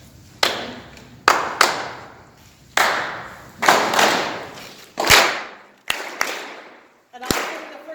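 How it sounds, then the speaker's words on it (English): Sharp hand claps repeat in a steady, spaced rhythm, each one backed by a deep drum thump that rings and fades between beats, loud and close at a worship service. "it starts with a clap, which I'll then reinforce with a drum"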